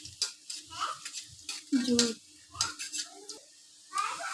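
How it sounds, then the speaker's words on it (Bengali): Chopped garlic frying until reddish in a pan for a sweet-sour tomato chutney, with white mustard seeds added, crackles and sizzles faintly amid scraping stirs and clatter, close by and fairly quiet throughout. "রসুন কুচিটা লাল লাল হয়ে ভাজা হয়ে আসলে এতে আমি একটু দিব সাদা সর্ষে"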